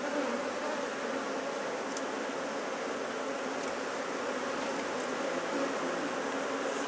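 Agitated honeybees from a queenless colony swarm in a hive box while being handled, producing a dense, steady buzzing drone close by with no talk.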